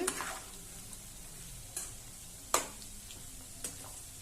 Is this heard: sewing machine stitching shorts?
no